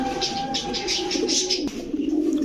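Pakistani Teddy and Kaldam pigeons at a pigeon seller's coo repeatedly in soft rhythmic bursts, close and fairly loud, over a continuous low hum.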